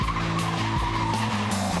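Car tires squeal and skid continuously while the car slalom drifts through traffic, loud and close, with the engine note rising and stepping beneath the screech; no one talks.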